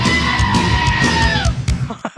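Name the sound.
screaming goat sound effect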